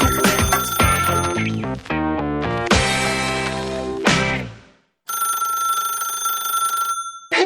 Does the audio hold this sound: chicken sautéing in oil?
no